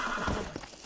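An undead horse in the video game Red Dead Redemption: Undead Nightmare gives a short, faint whinny with hoof clops mixed in, all in under a second.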